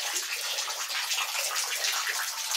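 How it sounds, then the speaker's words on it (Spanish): Clear water from a mountain spring near Cerocahui, Chihuahua, in Mexico's Copper Canyon region flows and splashes steadily, a bright, hissing trickle heard close up without any voices. "Miren, aquí está el manantial."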